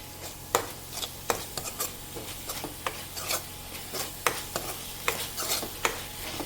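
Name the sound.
frying spice paste with gram flour in a pan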